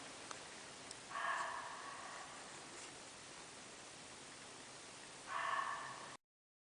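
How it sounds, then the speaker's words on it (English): Foxes barking and shrieking with roe deer calling in woods at night: two short raspy calls, one near the start and one near the end, faint and distant over a constant hiss. "There's some right rip-roaring noises going on in this woods tonight. Barking, shrieking foxes,"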